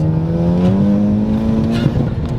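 A big-turbo Honda Civic Type R with aftermarket exhaust revs hard and climbs steadily in pitch, loud and close, with a brief break near the end as it shifts.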